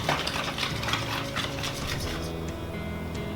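Flour is stirred into French toast batter in a bowl, a continuous wet scraping and swishing with light clinks of a utensil against the dish, close and steady with no talk.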